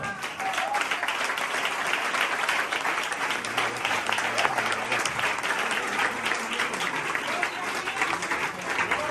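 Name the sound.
congregation applause for the King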